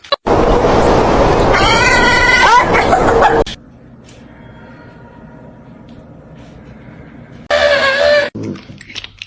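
Cats meow for food, with a loud, close burst of several drawn-out meows at the start, a long quiet stretch, then another sharp cluster of meows near the end.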